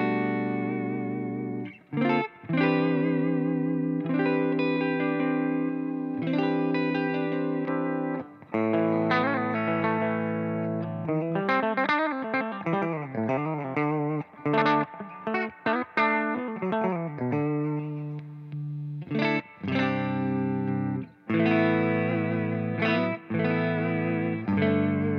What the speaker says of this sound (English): Here's the clean tone.